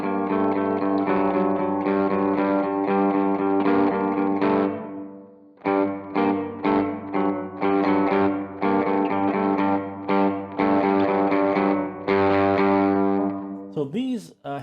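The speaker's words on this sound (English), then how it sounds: "So the delay is really quite nice. It's not too digital or artifacty sounding. It's quite usable. Same with the reverb." Distorted electric guitar is played through an ENGL Ironball E606 SE amp using its built-in delay and reverb, chords and notes ringing out with echoing repeats and a lingering tail, loud and close, broken by brief pauses.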